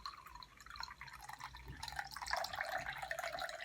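Water runs and splashes as it is poured into a champagne saucer, a soft, continuous trickle that grows fuller and brighter toward the end, heard close and alone at low volume.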